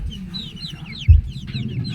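Soft, low clucking from a red junglefowl rooster close by in a backyard, with a short thump midway and faint birdsong in the background.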